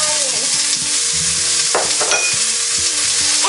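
Chopped onions frying in olive oil in a pan over medium-high heat, a loud steady sizzle with occasional stirring scrapes close by, no talking.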